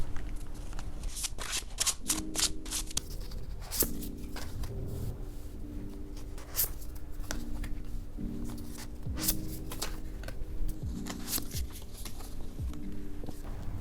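Tarot cards being shuffled and drawn one by one, with a run of soft riffling bursts and brisk papery slaps at close range, faint and steady, no talking.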